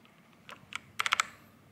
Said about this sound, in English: and then all you need to do is just put your keycaps back